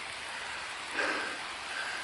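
Steady rain pours outdoors near a collapsed mine tunnel structure, a continuous broadband hiss of drops with a brief louder patch midway, fairly close and with no talking.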